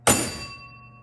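A single strike of the scoring bell inside a Catalina pinball machine under restoration, one sharp metallic hit followed by a ringing tone that decays over about a second, loud and close.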